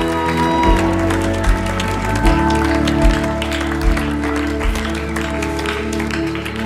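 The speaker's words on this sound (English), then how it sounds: "Come on, clap your hands and give Him praise." A church congregation claps in praise during a service, with rhythmic hand claps keeping time over loud ongoing music and a low, steady beat.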